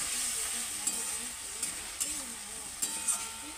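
Masala being stir-fried in a pan, with a steady sizzle broken by repeated scraping stirs and a few sharp clinks of the spatula, close by and with no talk.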